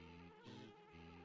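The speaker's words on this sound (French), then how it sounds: "Alors là, il va y avoir plein d'abeilles à tous les coups." Swarming honeybees buzz at a beehive in the video game Banjo-Tooie, a steady layered insect drone with a brief swell partway through, close and loud with no talking.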